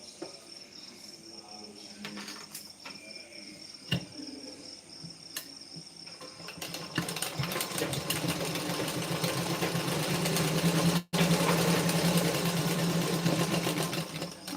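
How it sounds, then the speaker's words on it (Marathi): A sewing machine runs steadily, stitching a double line of tucks on a blouse, its motor hum and rapid needle clatter growing louder and denser about halfway through, with one brief pause near the end. "आता यावर आपण डबल शिलाई देऊन घ्यायची"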